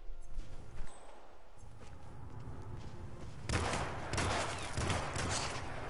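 Bursts of video game gunfire in Hitman, set in Paris, with clustered shots that grow louder and denser in the second half over a steady background.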